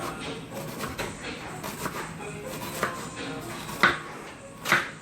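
A knife slicing an onion in half on a cutting board for pico de gallo, with several close chopping knocks spread irregularly, the sharpest two near the end, over quiet kitchen background.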